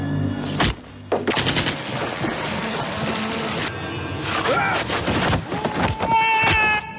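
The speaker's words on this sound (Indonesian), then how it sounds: "Tembakan demi tembakan dilepaskan, namun tak satu pun mengenai dirinya." Bursts of gunfire ring out repeatedly in a film scene about a police chief challenging maroon-beret soldiers, loud rapid volleys and single shots spread across the stretch with crashes and a background score, no talking.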